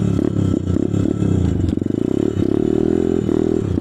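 Pit bike engine cranking and catching in a snowy winter forest, loud and close, with rough scraping and clattering as it sputters, stalls briefly, then settles into a steady rattling run.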